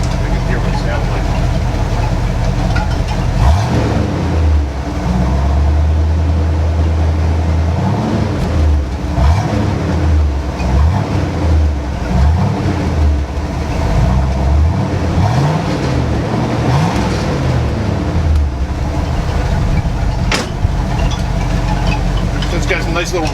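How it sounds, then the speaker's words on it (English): A 1977 Chevrolet Corvette C3 engine with a new muffler revs repeatedly from idle in rising and falling surges, a moderate, rounded roar that is not very loud, with people talking over it. "It's got a nice little roar to it, it's not real loud."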